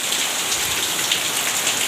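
Heavy rain pours steadily onto a poor family's house where the roof tiles have been taken down and a tarpaulin laid over it, a dense, unbroken hiss that fills the whole moment.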